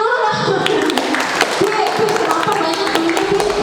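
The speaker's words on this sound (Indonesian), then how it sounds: "Tepuk tangan dulu lah." Applause from a classroom of students, a dense patter of many hands clapping steadily and fairly close, with some voices mixed in.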